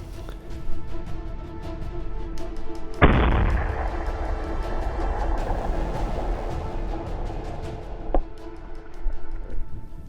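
A single loud rifle shot cracks out at a ram during a hunt in the open, a sharp report with a long rolling echo, while faint outdoor background sounds continue underneath.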